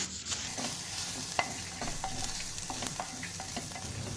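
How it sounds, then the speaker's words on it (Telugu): Onion with ginger garlic paste and turmeric fries in a village-style pan for spicy dal while being stirred, giving a dense, steady sizzle with light spatula scrapes and taps, fairly quiet and close. "తర్వాత ఉల్లిగడ్డ ముక్కలు కొద్దిగా వేగాక 1 స్పూను అల్లం వెల్లుల్లి పేస్టు, తగినంత పసుపు వేసి కలపాలి"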